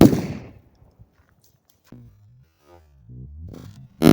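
Bang Saber flash bang loaded with 1-inch shotgun blanks: a sharp, loud blast that decays quickly, then near silence with scattered soft knocks and rustles, before another abrupt broadband burst at the very end.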